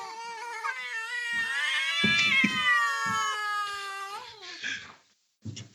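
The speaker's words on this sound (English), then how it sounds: "I've got a cat which has snuck in." A cat lets out a long, drawn-out, wailing meow close by, bending in pitch over several seconds. Faint thumps and shuffles sound underneath, then a brief silence.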